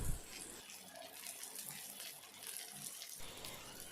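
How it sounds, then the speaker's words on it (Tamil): Water poured from a bowl into a cooking pan of brinjal fry masala, a faint gushing splash that runs steadily for about three seconds before cutting off, with no talk over it. "அந்த கிண்ணத்துல கொஞ்சமாக தண்ணி ஊற்றி நம்ம கலந்துக்கலாங்க."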